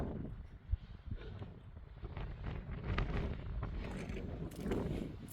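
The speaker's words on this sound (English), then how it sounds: "It might be a very windy day though." Strong wind blows across an exposed mountain ridge on the Franconia Ridge trail, buffeting the microphone with a continuous low roar and gusts. There is a brief thump early on, and no speech.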